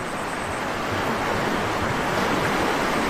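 At the edge of Bakas River, water rushes in a steady, broadband roar with a constant wash close to the microphone and no voices.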